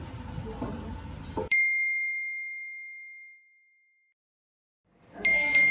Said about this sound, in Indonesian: Satu persatu masuk notif pada ponsel masing-masing setiap siswa.